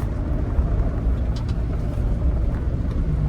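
Mahindra Thar petrol SUV driving through a U-turn, heard from inside as a steady low engine and road rumble with faint higher whines, continuous and fairly loud with no talk.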